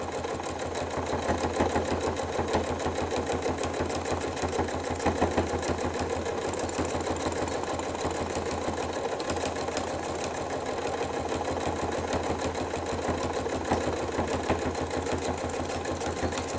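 A sewing machine stitches through a quilted bag of top fabric, backing and wadding, running steadily and close for the whole stretch with a fast, even rhythm and no pauses.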